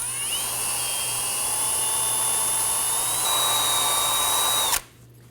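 A high-pitched rotary tool whines steadily while cleaning out a ball joint bore on a Volvo XC90, held close and loud, then cuts off abruptly near the end.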